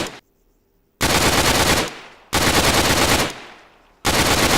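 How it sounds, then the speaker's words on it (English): Rifle gunfire from the NiArms mod in a video game, loud bursts of rapid automatic fire with a brief pause before each of three sustained strings of shots, no talking. "NiArms rifle though, got a much snappier sound."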